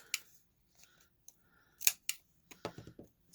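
Scissors snip paper for envelopes in short, quiet, close cuts, a few scattered snips followed by a quicker cluster, with no talking.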